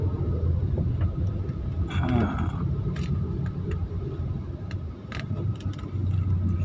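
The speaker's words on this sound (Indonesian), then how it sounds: "Sudah puas melihat kemacetan?" Traffic jam on a Jakarta road during heavy rain: a steady low rumble of idling cars and motorbikes, with faint horn-like and ticking sounds scattered through it and a voice talking over the congestion.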